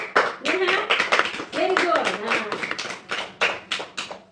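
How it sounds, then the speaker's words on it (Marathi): A group of children claps for a girl in a village home, with a burst of quick, uneven hand claps mixed under an adult voice speaking throughout. "तिच्यासाठी क्लॅपिंग करा सगळ्यांनी"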